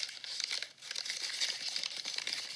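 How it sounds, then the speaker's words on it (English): Paper being crumpled and crinkled close up, a steady dense crackle lasting a few seconds with irregular sharp crunches and no voices. "The first thing that I said was crumpling paper."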